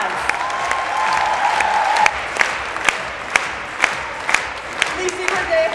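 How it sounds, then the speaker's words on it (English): An audience at a stage event applauds to welcome a honoree, the clapping building into a steady round of applause with sharp individual claps standing out near the end. "Let's welcome Lizzie Gabego to the stage and give her a huge round of applause."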